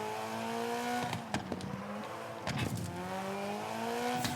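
A rally car engine drones and rises in pitch in the Gravel racing video game on a night stage, broken by sharp knocks and thuds as the car slides into a wall.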